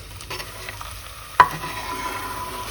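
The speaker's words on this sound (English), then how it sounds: "And now I'm going to add the onions and the carrots to make our soffrittino." Onions and carrots hit hot olive oil for a lasagna soffritto, a sharp clatter near the middle followed by a low steady sizzle.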